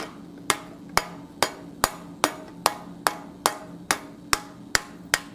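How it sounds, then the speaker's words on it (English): Sharp metallic hammer blows strike at a steady, even pace, about a dozen evenly spaced hits on metal in a cupping tool, forging a heart shape, ringing close by with a faint hum underneath. "and then hammer down in the center"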